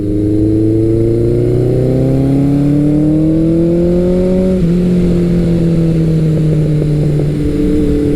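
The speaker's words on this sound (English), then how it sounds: "there's nothing like the sound of a big air-cooled four-cylinder bellowing through a pipe under full acceleration" A big air-cooled four-cylinder motorcycle, a Kawasaki Eliminator 900 or Suzuki GS1100L, roars loudly through its exhaust pipe under full acceleration, engine pitch climbing steadily, dipping briefly at a gear change, then pulling again.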